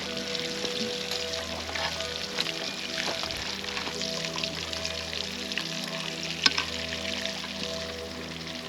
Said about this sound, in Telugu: చూడండి డీప్ ఫ్రై చేస్తున్నాం.